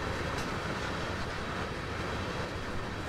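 Train ride in the Train Sim World video game during railcar switching, a steady dense rumble of rolling wheels and car noise continuing evenly throughout without talk.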